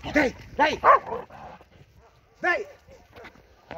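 Young border collie puppy of five to six months barking while herding cows for the first time, a few short yips close by, with someone talking in between.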